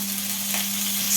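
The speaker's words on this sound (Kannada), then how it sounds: "ಈರುಳ್ಳಿ ಸ್ವಲ್ಪ ಫ್ರೈ ಆಗಿದೆ, ಇದಕ್ಕೆ ಇವಾಗ ಕಟ್ ಮಾಡ್ಕೊಂಡಿರೋ ಬೀನ್ಸು ಮತ್ತು ಕ್ಯಾರೆಟ್ ಹಾಕಿ" Onion, beans and carrots frying in a pan give a steady, close sizzle with a constant low hum beneath and a brief scrape near the end.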